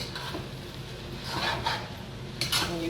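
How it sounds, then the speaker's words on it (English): A spoon scraping and rubbing through bulgur rice in a pot, soft gritty stirring with a few brighter metallic scrapes against the pot, close but quiet and without talk. "And you keep stirring until it's well mixed and you're ready to eat."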